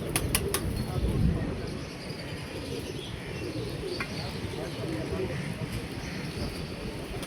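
Pigeons flapping as one lands, with a few sharp wing flaps at the start over a steady outdoor background of faint cooing and chirps, and a voice speaking throughout.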